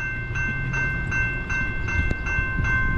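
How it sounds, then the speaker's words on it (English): Norfolk Southern empty auto rack freight train passing close by, its cars clanking in a regular rhythmic clack over the rails, loud and continuous with no talking. "Empty auto rack train."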